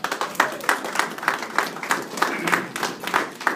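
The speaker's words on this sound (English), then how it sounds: "I'd like to clap for" A reception crowd claps in steady, dense applause, moderately loud and continuous for a few seconds with no talk over it.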